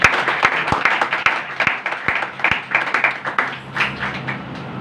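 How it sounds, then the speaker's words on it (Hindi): A church congregation applauding steadily for several seconds, dense clapping with a few sharp, louder claps standing out near the front. "मेरे यीशु के लिए एक बार जोरदार ताली।"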